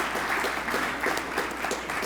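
Brief applause from an audience at the 2017 Waterbury Hall of Fame induction ceremony, a short burst of clapping heard at moderate distance with no voices over it.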